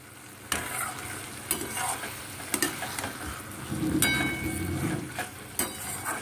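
Food is stirred and mixed in a frying pan for a chilli Nutrela dish, the spatula scraping and knocking against the pan in uneven strokes over a soft, continuous sizzle.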